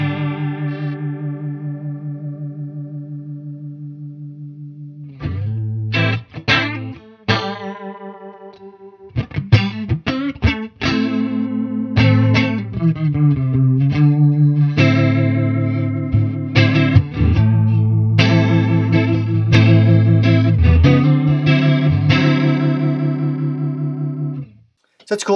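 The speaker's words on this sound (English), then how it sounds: "some people like to take a chorus and kind of get sort of like a sort of more like a rotary Leslie type of sound" Electric guitar played through a chorus pedal set for a swirling, rotary Leslie-style warble, strummed chords and single notes ringing loud and sustained with a few gaps early on.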